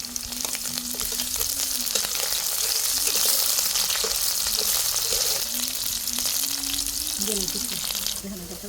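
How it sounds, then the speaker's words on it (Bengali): Dried fish frying in hot oil in a pan for a spicy curry with Malabar spinach seeds, a loud and constant sizzle up close with some low hum under it. "শুটকিগুলো তেলে ধুয়ে নিতে হবে এবং যেন পুড়ে না যায় সেদিকে কিন্তু খেয়াল রাখতে হবে"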